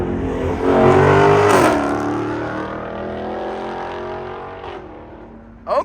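A red Dodge SRT 392 with its mid muffler deleted swells to a loud, raspy exhaust roar nearby, then settles into a lower rumble that fades, with a brief sharp burst at the end.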